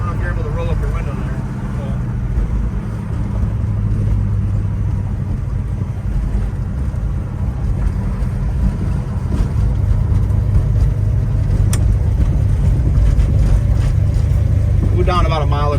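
A 1970 Chevrolet Chevelle SS 454 restomod cruising on the highway, its steady low engine drone and road rumble filling the cabin continuously, with people talking over it.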